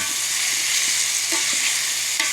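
Patola and sotanghon sautéing in a pan, giving a loud continuous sizzle with a few light scraping stirs of a utensil.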